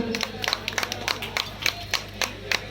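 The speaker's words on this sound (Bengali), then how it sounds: "সবাই একটু জোরে হাততালি দেবেন" Scattered hand claps in an uneven rhythm at a neighbourhood blood donation camp, a few people clapping rather than a full crowd, over a low steady hum.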